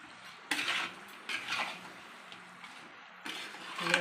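Pepper chicken being stirred in a pan with a metal utensil, producing a few scraping, clinking bursts of cutlery against cookware with quieter pauses between, close and moderately loud.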